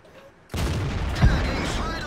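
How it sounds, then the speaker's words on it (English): Artillery fire in World of Tanks, a sudden loud boom rolling into a rumbling blast that sustains with a sharper crack partway through. "I believe that was artillery."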